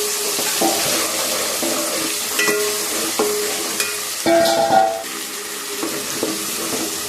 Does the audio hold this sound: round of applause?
no